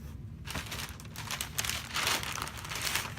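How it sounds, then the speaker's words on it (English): Wrapping paper crinkles and rustles up close during the unboxing of Nike Adapt E.A.R.L BB sneakers, continuous crackling handling noise with louder crunchy bursts, over a low background hum and no talking. "Let me move this paper out the way so it's not keep making that noise"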